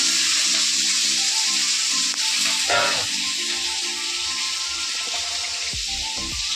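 Potatoes frying in lightly heated oil in a home kitchen, a loud steady sizzle throughout with some stirring clatter and no talk.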